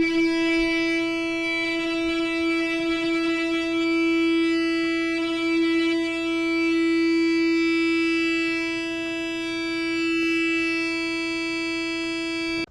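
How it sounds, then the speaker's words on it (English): A single electric guitar tone sustained by an EBow, held steadily for a long stretch with no pick attack, sustaining evenly and humming smoothly throughout. "This EBow uses electromagnetic waves and it vibrates the strings forever"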